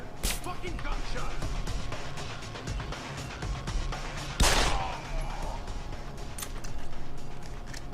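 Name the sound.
gunshot in the video game Deus Ex: Human Revolution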